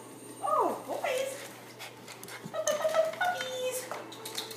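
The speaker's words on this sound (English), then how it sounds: "Puppies." Young puppies nearly six weeks old whimpering and yipping indoors, a few high wavering whines and squeaks close by, spaced irregularly across the moment.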